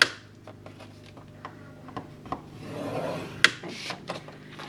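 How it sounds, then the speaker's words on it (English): A scoring tool drawn along the long side of a sheet of paper for a folio, giving a few short, close rasping strokes in a quiet room. "now you need to score on your long side."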